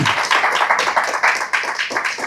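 Hands clapping in steady applause from an audience at a Bible study, a dense run of sharp claps lasting a couple of seconds with no talk over it.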